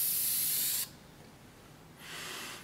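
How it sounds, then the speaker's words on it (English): Shellac misted lightly from an aerosol spray can onto a turned wooden rim platter: a loud hiss for almost a second, a pause, then a second, quieter burst of spray. "So when you're spraying, it's very light."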